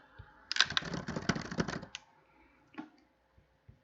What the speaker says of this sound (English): So you are typing something